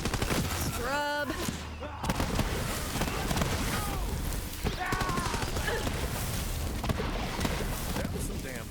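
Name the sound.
gunfire in video game Borderlands 3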